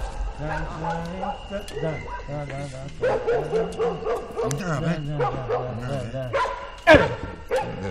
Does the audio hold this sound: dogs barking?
yes